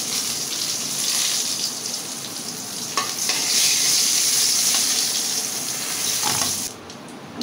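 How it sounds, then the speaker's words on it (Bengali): Eggplant frying in hot oil for a river pangasius fish dish gives a loud, continuous close sizzle with a few sharp spatters and stirring clicks, then drops off abruptly near the end. "আমার বেগুনটা কিন্তু লাল লাল করে ভাজি করে নিছি সুন্দর করে"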